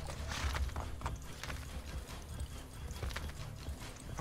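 Horse hooves gallop in Assassin's Creed Brotherhood, a fast, steady clip-clop rhythm close by with a low rumble underneath, continuous throughout.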